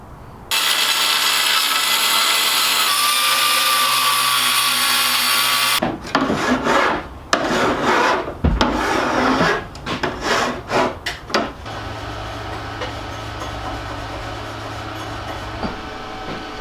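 Cutting a sheet of aluminum for a battery box in a Tesla-powered Vanagon build: a long, loud steady power-tool cut, then several rough bursts of sawing and grinding, ending in a lower continuous hum.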